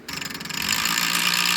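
A computer powers on and its fans spin up into a loud, steady roar like a diesel engine. The noise pulses briefly at first, then holds a constant broadband whoosh close by.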